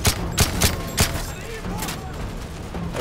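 Call of Duty Modern Warfare 3 gunfire: a quick volley of loud, punchy shots in the first second, then lighter scattered firing and background battle noise under a player's voice.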